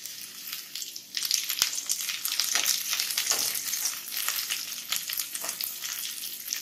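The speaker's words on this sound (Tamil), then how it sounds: "வெங்காயம் நல்லா வதக்கலாம். அடுத்து கருவேப்பிலை சேர்த்தலாம்." Onions and curry leaves frying in a pan for carrot rice give a steady, close crackling sizzle that swells after the first second and holds fairly loud throughout, with no voices.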